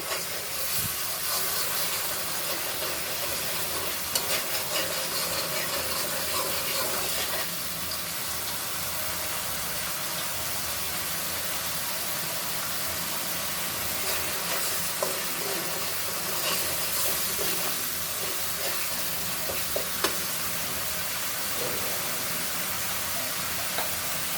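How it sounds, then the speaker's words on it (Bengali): Spice paste for a Bengali fish curry sizzles and fries steadily in a pan, a continuous close hiss with occasional spatters and stirring scrapes. "মশলাটা সুন্দর করে কষিয়ে নিচ্ছি"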